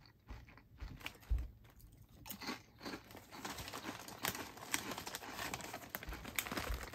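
Thick-cut kettle potato chips crunching between the teeth, a string of crisp, close bites and crinkly snaps that grow denser and louder over a few seconds, with no talk.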